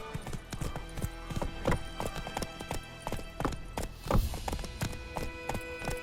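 Roach, the horse in The Witcher 3, gallops with rapid, close hoof clip-clops in an uneven rhythm, with a brief whinny-like swell partway through and a voice now and then.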